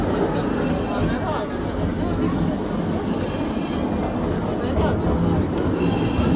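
A small amusement park ride train at LEGOLAND Deutschland rumbles past with steady rolling noise and occasional high squeals, while people chatter in a busy outdoor crowd.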